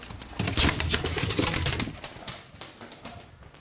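Pigeons burst out of a loft with loud, dense wing flapping that fades over a few seconds, with a couple of softer flutters afterward.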